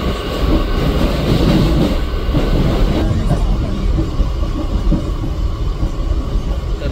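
Train at Charni Road railway station in Mumbai, a loud, steady rumble of rolling wheels and carriages fills the whole stretch with dense low-end roar, easing slightly midway as the noise continues.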